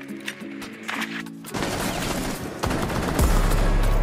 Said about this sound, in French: Récemment j'ai découvert la 417, le fusil coup par coup